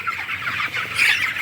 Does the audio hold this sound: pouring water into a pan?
no